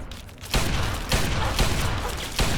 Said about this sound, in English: Maybe it's best to switch to pistol and fire a bit quicker.